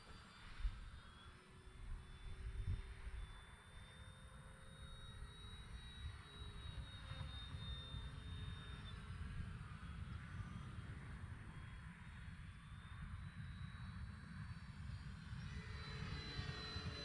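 An F8F Bearcat piston-engine fighter flying at full speed, its engine a steady, loud, sustained drone with a whining tone drifting over it, unbroken for the whole stretch.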